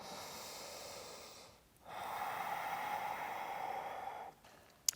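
A slow, deep breath in and out during a quiet yoga session, the first breath fading, a short pause, then a fuller airy exhale, close and soft with no talking.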